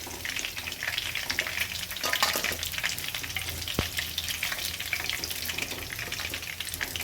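Cubes of paneer fry in hot oil for palak paneer, giving a steady, close sizzle with faint stirring clicks and no voices.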